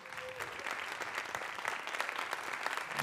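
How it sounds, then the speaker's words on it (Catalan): Dense, sustained applause from an audience at an awards gala, steady clapping throughout with no pauses. "un fort aplaudiment per a ells"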